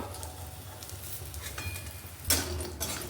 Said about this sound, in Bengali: বড়িগুলোকেও বেশ লালচে করে ভেজে নেব।